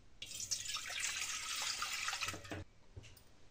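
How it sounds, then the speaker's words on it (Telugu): Water poured from a glass into a pot on a stove, a steady splashing pour lasting about two and a half seconds, then a few faint drips and trickles, close and fairly quiet. "స్టవ్ మీద ఒక గిన్నె పెట్టుకొని అందులో ఈ గ్లాస్తో 4 గ్లాసుల వాటర్ని యాడ్ చేసుకోవాలండి"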